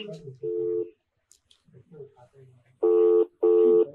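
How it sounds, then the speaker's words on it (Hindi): Phone ringback tones repeat in steady bursts through a handset while calling a government ambulance service, with a person speaking softly between the rings. "फोन लगा रिंग हो रहा है"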